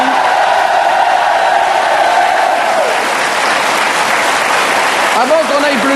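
Studio audience applause on a French television talk show, a continuous wash of clapping and crowd noise running throughout, with a voice and tonal sounds layered over it.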